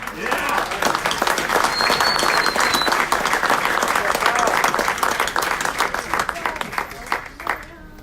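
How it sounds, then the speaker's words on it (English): Sustained applause from the crowd at a city council meeting in Aurora, a dense steady wash of clapping that tapers off near the end, with some voices mixed in. "Round of applause for Ward."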